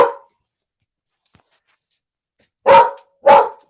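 A dog barks twice in quick succession, loud and close, after a single short bark at the start, with quiet gaps between and no talking over it.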